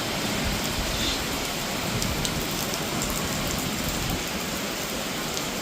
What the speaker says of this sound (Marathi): आता परत पाऊस चालू झालाय एकदम जोरात